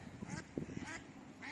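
Ducks quack in short bursts at a park pond where people are feeding them and pigeons, with a few calls near and clear against light outdoor background noise.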